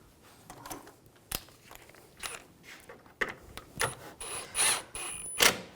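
Screws being snugged down on the coolant reservoir of a 2006–2010 BMW 550i 4.8L V8, heard as close ratchet clicks in short irregular bursts with sharp mechanical ticks, no talking.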